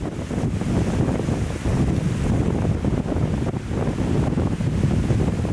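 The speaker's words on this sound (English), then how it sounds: "once we reached the top, the wind gave us a free facelift." Strong wind blasts across the microphone at a mountain observation point above a village, a loud, continuous rumbling roar with gusty surges and no voices.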